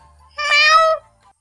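A kitten in Survivalcraft 2 gives a single clear, fairly loud meow lasting about half a second, alone and with no talk over it.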